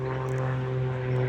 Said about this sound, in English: I'm sorry for the background noise, planes.